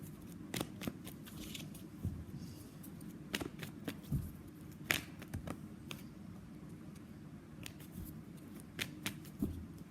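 Tarot cards being shuffled by hand, a soft continuous riffling with scattered sharper flicks and snaps recurring irregularly over a low steady background, close and fairly quiet, with no talking.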